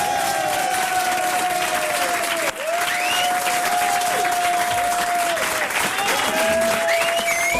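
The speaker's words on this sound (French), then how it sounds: "sous vos applaudissements" Studio audience applauding on a French television show, loud dense sustained clapping throughout with a brief dip partway, while a voice talks over it and tonal music lines run underneath.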